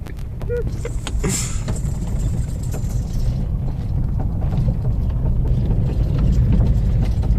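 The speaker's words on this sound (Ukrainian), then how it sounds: "Зараз нас двигун розігрівається, зараз будемо злітати." A vehicle engine warms up on a road trip with a steady low rumbling drone, loud and continuous, plus a brief mechanical squeal near the start and a voice speaking over it.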